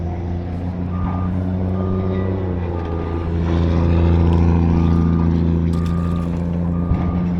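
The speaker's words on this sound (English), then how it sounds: "Trucks, people." A truck's reversing alarm beeps in a slow, regular series of about seven tones over a loud idling diesel engine rumble nearby, with no talk.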